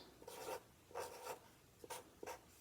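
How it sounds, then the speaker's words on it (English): Pen or marker scratching across a paper donut cutout in a few short strokes, close and quiet, with pauses between bursts and no talking. "on the first donut, I could write"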